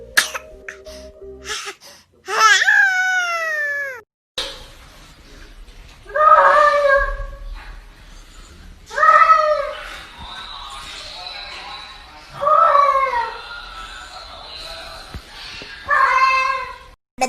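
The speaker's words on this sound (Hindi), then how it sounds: "पीने के बाद जो ये बिल्लियाँ बोल रही हैं" Several cats meow loudly in turn, drawn-out wavering cries with pauses between, some overlapping, close by.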